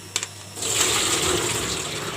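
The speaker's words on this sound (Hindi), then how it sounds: "अब हम इसको ड्रेन कर लेंगे।" Water rushing out as washed potatoes are drained for fries, a couple of sharp clinks first, then a sudden steady gushing pour that continues to the end.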